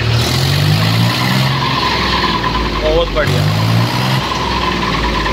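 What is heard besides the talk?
tractor engine running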